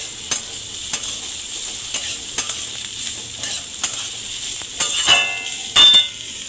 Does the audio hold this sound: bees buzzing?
no